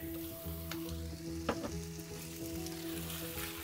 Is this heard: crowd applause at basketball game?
no